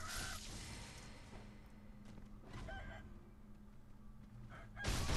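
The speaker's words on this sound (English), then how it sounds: "do take care of the two chickens, otherwise they will follow you down" Chickens clucking in the video game Sekiro: Shadows Die Twice, faint scattered clucks and a brief crowing call over low ambient game background, with louder rustling bursts at the start and end.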